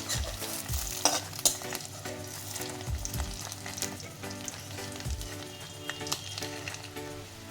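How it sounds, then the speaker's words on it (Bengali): Spiced fish roe fritters fry in hot oil in a covered pan, giving a steady close sizzle with scattered clinks and scrapes from turning and stirring, and no talk. "সব উল্টে দিয়েছি, আবার ঢেকে ভেজে নেব।"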